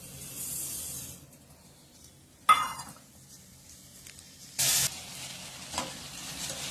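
Strawberries and sugar are stirred in a pan on a stove, giving a faint, quiet sizzle broken by a couple of sharp scraping swishes of the spoon, with no talk.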